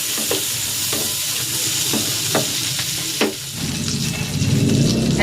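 Butter melting and sizzling in a pan for pineapple glazed ham, a constant crackle with a handful of spaced utensil taps and scrapes, the frying swelling louder toward the end.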